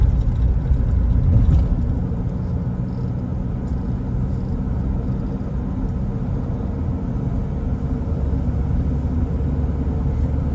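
A car drives along the Bay of Bengal coast road between Vizag and Bheemili, a steady loud interior engine and road rumble that runs without a break and has no talk over it.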